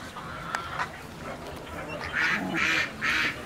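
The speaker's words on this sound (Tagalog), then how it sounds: "So, eto yung aking mga pecking ducks at mga ducks." Peking ducks on a farm let out three loud, nasal quacks in quick succession near the end, following a quieter stretch of faint farmyard background noise.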